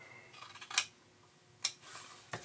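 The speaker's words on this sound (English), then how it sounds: "Now I'm just going to cut a dart right into there." Scissors snip a dart into paper for a dress form pattern: two sharp, close cuts about a second apart and a third softer one at the end, quiet and alone.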